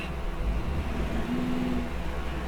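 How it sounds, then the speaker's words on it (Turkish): The Temsa Safir bus engine in Euro Truck Simulator 2 idles as a low, steady rumble, quiet and even throughout. "Sadece otobüsün sesini dinleyelim."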